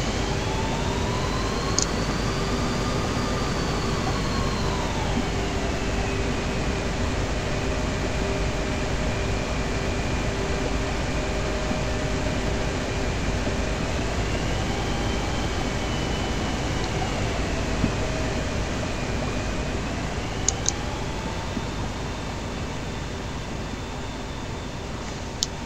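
An airliner taxiing to the runway in the X-Plane 10 flight simulator, a steady jet engine whine and airy hum whose pitch slowly rises and falls as thrust changes, with a few faint clicks and no voices.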